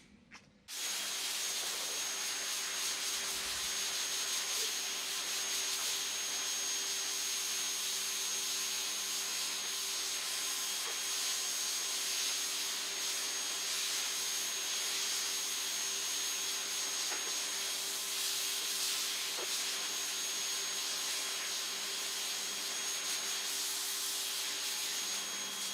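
A brush scrubs car floor mats in a steady, close, continuous rasping hiss that starts abruptly and runs on without a break, with no talking.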